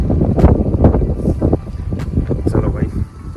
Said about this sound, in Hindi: क्या ठंडी हवा चल रही है